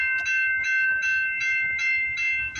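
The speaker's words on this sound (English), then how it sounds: "we got a CPKC westbound train coming down the line" A westbound CPKC freight train passes at dawn at Guelph Line, its steady rumble and clatter carried under repeated high horn or whistle-like tones sounding in regular bursts, fairly close and continuous.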